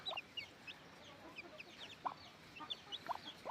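Native free-range chickens on a farm cluck in short, scattered bursts over a soft outdoor background, with several separate calls spread through the stretch.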